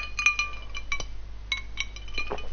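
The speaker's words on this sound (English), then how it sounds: "Very noisy though, when you put ice in it in a glass cup." Ice cubes clink and rattle against the sides of a glass cup of water, several bright, close taps scattered irregularly over a faint low hum, with no voices.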